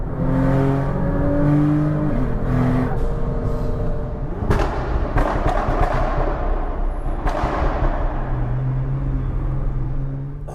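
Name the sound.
car gearbox whine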